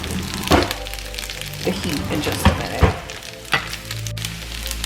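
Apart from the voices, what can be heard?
shrimp fried rice and eggs frying in a pan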